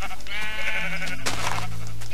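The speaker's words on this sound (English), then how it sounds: "Stupid sheep." A sheep bleats in the Minecraft video game, a wavering, loud bleat followed by a second, shorter call.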